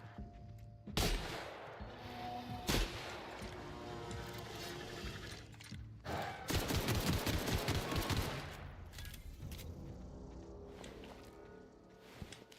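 Gunfire in the video game The Outer Worlds, pistol and shotgun shots ringing out as sharp bursts and rapid strings of blasts over a busy combat soundscape, fairly loud, without speech.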